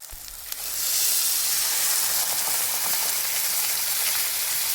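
Sprouted moth beans (matki) tipped into hot fried masala in a pan burst into a loud, steady sizzle and hiss that starts with a short clatter and holds strong to the end, with no voices.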